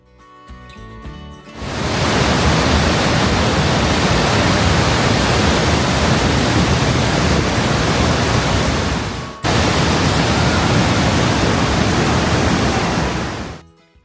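Heavy, steady roar of a waterfall at Lauterbrunnen in Switzerland, fed by snowmelt from the surrounding high peaks, filling the air as a loud, unbroken broadband rush that cuts out briefly partway through.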